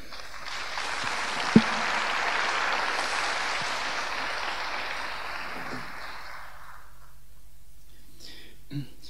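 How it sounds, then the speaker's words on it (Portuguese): An auditorium audience at an international education forum in the Campinas metropolitan region breaks into sustained applause to welcome Professor Dermeval Saviani. The clapping is broad and steady for several seconds, then gradually fades out near the end. "sobre os aplausos da plateia"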